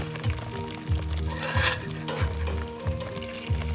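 An egg fries in a pan on a winter camping stove, giving a steady loud sizzle with soft repeated scraping or tapping sounds roughly every half second and no talking.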